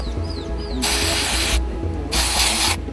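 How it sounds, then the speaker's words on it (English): Antibiotic spray aimed at a cow's infected hoof during hoof trimming, two sharp hissing bursts under a second each, with mechanical clicks and rattles in between. "Then Alex used an antibiotic spray on the infected part"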